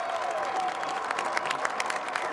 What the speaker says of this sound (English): being applauded by Pepe Oriola